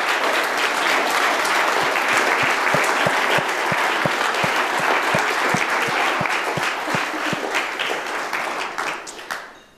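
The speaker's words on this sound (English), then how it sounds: "I would like a special round of applause for everybody who helped out to make this happen." A room full of people breaks into sustained applause for event helpers, dense steady clapping with a few sharper individual claps standing out, fading slightly near the end.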